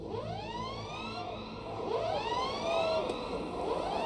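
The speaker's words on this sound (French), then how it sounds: "elle fut accueillie par les hurlements des sirènes" Rising and falling wails of air-raid sirens sweep across a town in the World War I game Valiant Hearts: The Great War, several overlapping tones looping steadily at a moderate distance over a low rumbling backdrop.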